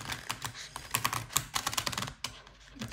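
Brand-new, stiff tarot deck being shuffled by hand, a quick series of crisp card riffles and taps in a close, quiet room, with no talking.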